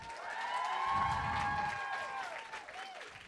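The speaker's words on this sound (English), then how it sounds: "So give him a round of applause for that." An audience applauds an award-winning novelist at a livestreamed book event, a moderately faint, even wash of clapping with tonal hum and ringing lines running underneath.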